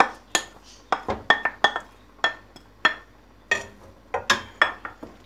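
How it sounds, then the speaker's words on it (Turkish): Chopped onions emptied from a plate into a cooking pot on the stove, heard as a series of sharp clinks and scrapes of utensil against metal and dish, close and fairly quiet with no talk. "Evet, tenceremin altını açıyorum. Soğanı boşaltıyorum."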